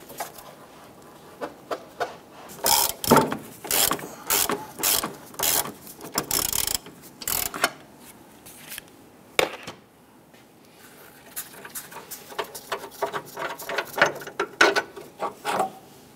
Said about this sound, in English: Using your 18mm socket, loosen and remove this bolt.